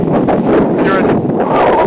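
Steady wind buffeting the microphone in hilly Wellington, New Zealand, a continuous loud rumbling roar with gusty swells throughout.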